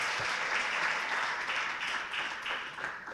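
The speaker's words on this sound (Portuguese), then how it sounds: "Aplauda o Senhor pela tua vida" Church congregation applauding during a sermon, a steady wash of many hands clapping at moderate distance for a few seconds, without talk over it.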